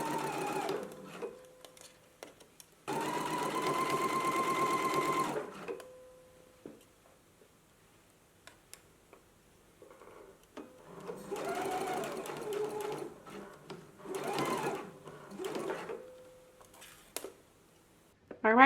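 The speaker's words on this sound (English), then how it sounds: "We're going to be stitching in a 5/8 of an inch seam allowance." A sewing machine stitches a seam on knit dress fabric in several short, quiet runs separated by pauses and soft clicks, with the motor whirring close by.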